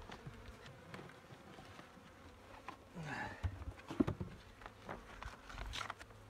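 Honeybees hum in a low, steady buzz close by at the hive during a February winter check, with scattered faint knocks and rustles rising in the second half.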